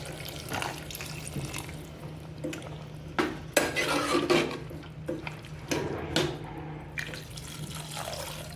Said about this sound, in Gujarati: હવે આપણે પાણી નાખી દઈશું।